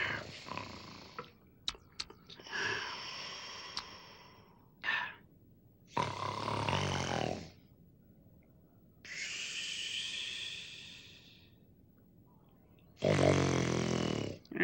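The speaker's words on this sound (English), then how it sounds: "you're snoring" Loud, drawn-out puppet snoring alternates with gravelly grunts and breathy wheezes in long, rhythmic bursts with pauses between them, close and unaccompanied.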